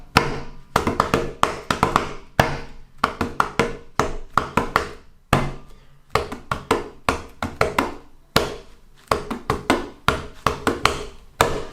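Hands tap out a steady rhythmic pattern on a table, clusters of crisp close taps separated by brief pauses, repeating throughout with no talking.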